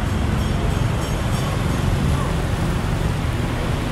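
Street traffic rumbles steadily and close, a continuous broadband roar of passing road vehicles with no pauses, loud throughout.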